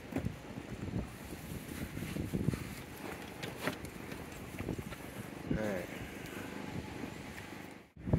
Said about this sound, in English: So there's some serious wind,